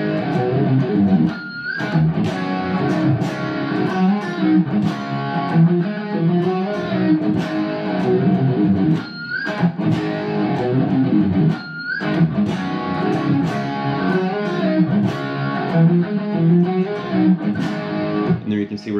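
A heavily distorted electric guitar plays a busy, dense hard-rock riff from a 1990 song, loud and continuous with brief drops between phrases.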